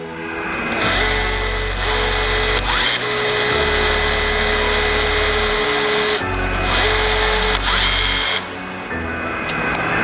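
An electric torque tool tightening a fastener whirs loudly and steadily in two long runs, each settling into a constant motor drone before stopping, with short pauses between.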